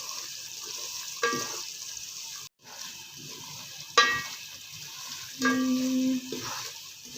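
Semolina halwa with coconut scraped and stirred in a pan, with a soft steady sizzle broken by a few sharp clinks of the spoon against the metal, no voices.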